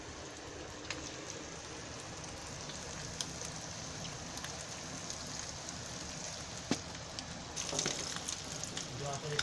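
Catfish (magur) pieces frying in a pan for a Marathi fish fry, a steady soft crackling sizzle throughout, fairly quiet, with no talking over it.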